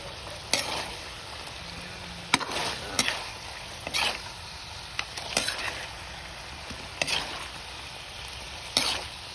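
Chicken adobo stirred in a pan over a soft, constant sizzle, with a spoon scraping and clacking against the pan at irregular intervals.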